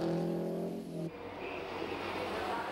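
Racing trucks on the Brands Hatch circuit, a loud engine drone with a tonal whine that cuts off abruptly into a broad roaring rush of passing traffic.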